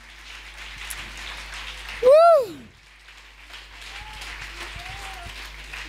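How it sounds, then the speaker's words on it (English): A church congregation at a ladies' conference service claps their hands, giving a soft, steady patter of applause with a loud whoop partway through. "Come on, let's clap our hands to God."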